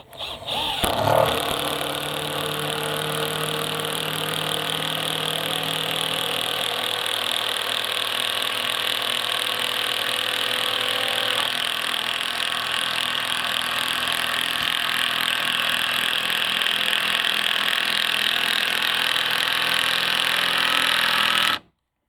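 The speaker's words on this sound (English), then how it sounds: "driving these 125mm stainless steel 14 gauge batten screws directly into treated 6x2 timber" Makita 12V CXT impact drivers hammering 125mm 14-gauge stainless steel batten screws into treated 6x2 timber, a loud continuous rattling impact roar sustained for about twenty seconds without a break.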